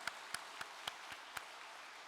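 Scattered, isolated hand claps at a religious gathering: about six sharp claps spaced across two seconds, faint and distant with no voices.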